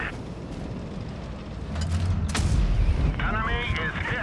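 A tank cannon shot in World of Tanks Blitz, likely from a T-25, landing as a loud low boom with a crackling burst and a ringing metallic tail. Game explosions and other battle noise sit around it.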